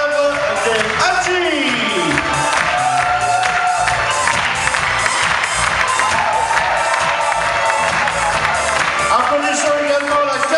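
A large circus audience claps and cheers steadily for the horse act, with scattered whoops and shouts over music-like tones, loud and continuous throughout.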